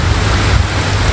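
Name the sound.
heavy rain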